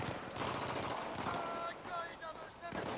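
Rapid automatic gunfire from a Battlefield 3 firefight rattles on loudly and almost without pause, with dense bursts and a voice talking over the shooting.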